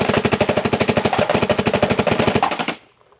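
A Dye MXR paintball marker fires a rapid, steady stream of about thirty shots in under three seconds, loud and close, each pop sharp and evenly spaced before the burst cuts off into quiet.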